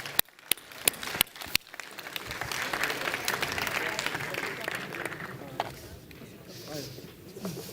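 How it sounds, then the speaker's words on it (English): An audience at the NG Poland conference applauds the Angular core team speakers. It opens with a few sharp, isolated claps, then builds into steady clapping that fades toward the end as voices speak. "And we can give them a round of applause."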